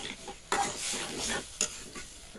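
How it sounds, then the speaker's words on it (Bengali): Sesame seeds frying in a pan for a Bangladeshi sesame biryani, stirred with soft scraping strokes and a light sizzle, quiet and close, with a couple of sharper scrapes. "এবার দেখেন ভালো করে নেড়ে চেড়ে নিচ্ছি।"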